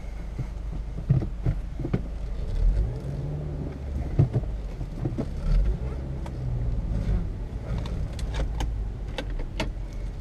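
A 2005 Acura TSX with a manual gearbox and a 200-horsepower engine drives along, its steady low engine and road rumble running throughout with scattered clicks and light knocks from the cabin.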